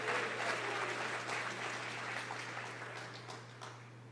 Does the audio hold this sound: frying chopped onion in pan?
no